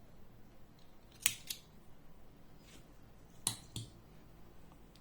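Scissors snip through crochet yarn, two crisp sharp cuts about two seconds apart, each followed by a softer click as the blades reopen, close and fairly quiet against a low room hush.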